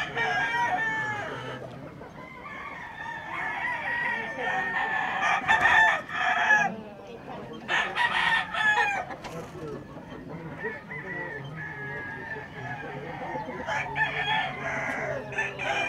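Roosters crow and hens cluck continuously at a large site holding thousands of seized cockfighting fowl. The dense chorus of overlapping calls is busy and constant, with a few louder crows rising above the crowd.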